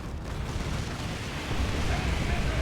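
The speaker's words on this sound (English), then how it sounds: "A very awesome grenade from these scouts from Adila." A grenade from scouts exploding in Dawn of War 2 during a 3v3 match, a dense rumbling blast that swells louder toward the end amid constant battle noise.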